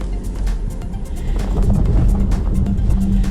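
A 2019 Audi Q3 with all-wheel drive in off-road mode crawls up a rough mountain slope, engine droning low and swelling as throttle builds, with gravel crunches and clicks as wheels spin, close by.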